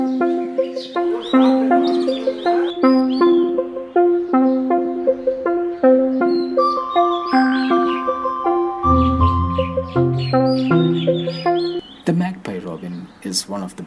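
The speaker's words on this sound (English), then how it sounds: "this beautiful and sweetly refreshing tweets, chirps and whistling tunes in your neighborhood, be sure it's an Oriental Magpie Robin" An Oriental Magpie Robin sings in a city setting, a varied run of clear whistles, tweets and chirps repeating in quick phrases, close and prominent, with brief noise near the end.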